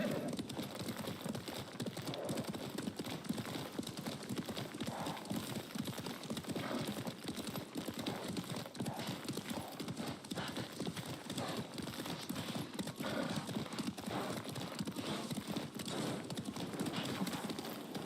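Horses' hooves clip-clop in the Ghost of Tsushima video game, a steady, even rhythm of hoofbeats carrying on without a break for the whole stretch beneath a low game soundscape.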